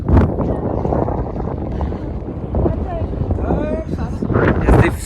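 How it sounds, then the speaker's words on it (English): Strong, cold mountain wind buffets the microphone at Sela Pass near Sela lake in Arunachal Pradesh, a loud, gusty roar that rises and falls, with a voice partly heard under it. "The wind speed is amazing"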